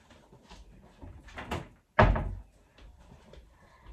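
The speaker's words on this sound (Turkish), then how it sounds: "Bu arada dolabın kapısı açık kalmış. Kapatayım." A cupboard door in a home swings shut with one sharp, close thunk after a soft rustle of handling, then quiet room noise.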